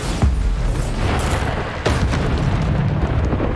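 Bombarda spell explosions in Hogwarts Legacy combat, two heavy booms a little over a second apart, loud and dense with rumbling debris after each.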